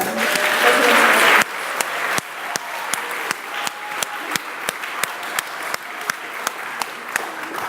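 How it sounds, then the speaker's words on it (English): An audience at a school promotion and awards ceremony applauds the residents. A loud burst of clapping cuts off abruptly, then a voice talks over a series of sharp, evenly spaced taps or claps. "one more round of applause for all of the residents"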